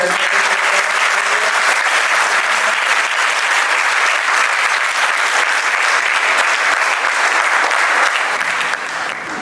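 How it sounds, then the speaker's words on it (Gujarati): An audience at a school talent seminar applauds loudly and continuously, dense clapping filling the hall for about nine seconds before easing slightly at the end. "જોરદાર તાળીઓ છે ઉપર"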